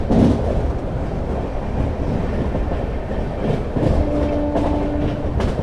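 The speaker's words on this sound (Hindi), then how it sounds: "सामने से आ रही है झेलम एक्सप्रेस।" Jhelum Express hauled by a WP7 locomotive rushes past on the opposite track, a loud steady rumble of wheels and rattling coaches heard from inside a moving train, with a faint horn-like tone near the end.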